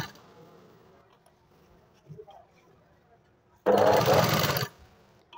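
A sewing machine stitches a blouse hook strip in one loud, close burst lasting about a second, after a quiet stretch with faint handling noises.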